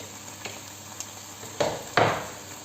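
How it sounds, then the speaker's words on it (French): Green and red bell peppers in oil in a pan give a soft, low sizzle, with a few light utensil clinks and two sharper scraping knocks near the end. "Je vais mettre mes poivrons verts, mes poivrons rouges. Par contre il faut bien les faire revenir avec."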